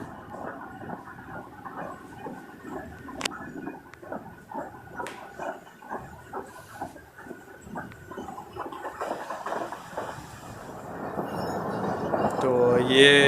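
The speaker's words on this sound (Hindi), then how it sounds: "तो ये ट्रेन अपनी मामूल की स्पीड के साथ माशाल्लाह तेज़ी से" Pakistan Express passenger train running at speed, a steady rumble of wheels and carriage noise with rhythmic clatter, growing louder toward the end, with occasional short sharp clicks.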